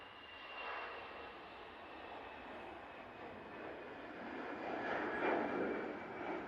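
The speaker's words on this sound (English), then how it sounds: "Finnair now on the roll." A Finnair airliner starts its takeoff roll at Manchester Airport, a distant, faint engine roar and rumble that slowly builds in strength.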